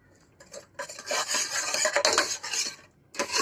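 A ladle or dal masher works through cooked dal for mudda pappu in a pot, making soft scraping, squelching and clinking strokes in irregular bursts with a brief pause near the end, close and moderately quiet.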